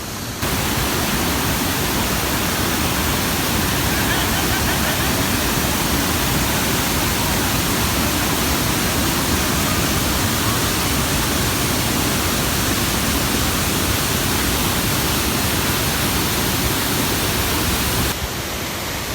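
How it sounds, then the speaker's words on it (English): Rongkusi Waterfall flows with a loud, steady, broadband roar that holds unbroken for nearly twenty seconds. "now we can see that this is Rongkusi Waterfall"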